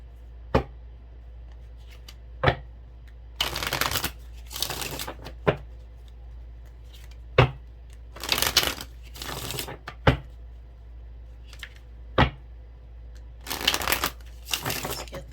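Tarot cards shuffled for a reading, with repeated riffling bursts and sharp single taps of the deck, close and fairly loud, no talking.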